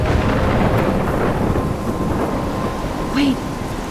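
A thunderstorm with heavy rain in the video game Life is Strange, a dense steady hiss of rainfall over deep rolling thunder, loud and continuous, with a brief higher tone near the end.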